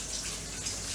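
Hot tap water runs steadily into a sink while a meat cutting board is rinsed, a constant close hiss with no talking.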